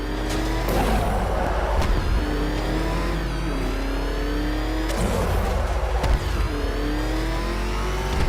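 The Batmobile's engine in Batman: Arkham Knight roars loudly and continuously, its pitch rising and falling as it revs and accelerates through a chase, with a few sharp impacts along the way.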